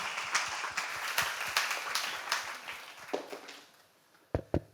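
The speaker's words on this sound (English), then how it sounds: "Give him a round of applause" A conference audience applauds a keynote speaker taking the stage, with steady mixed clapping that thins out and fades, leaving a couple of last sharp claps near the end.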